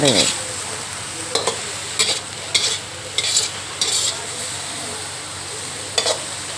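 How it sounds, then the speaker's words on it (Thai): Baby corn and pork stir-fry in a pan, a constant sizzle broken by several sharp bursts of scraping and tossing at irregular intervals. "ข้าวโพดนี้เราก็จะใช้เวลาผัดนานนิดนึงนะคะ เพราะว่า ข้าวโพด จะแข็งแล้วก็สุกยากนะคะ ผัดคุกเขาให้เข้ากัน"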